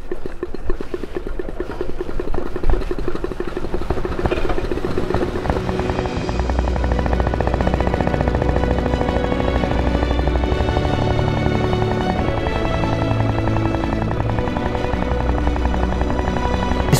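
Engine of a 1901 Royal Enfield motor bicycle replica running, a loud, steady throbbing chug that holds an even rhythm throughout, deepening partway through, with no voices.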